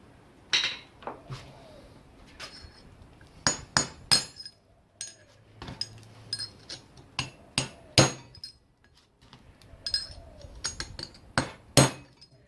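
Sharp metallic hammer strikes ring out in uneven bursts while someone works on a car clock refurbishment, the blows loud and close, some with a glassy clink, separated by short pauses.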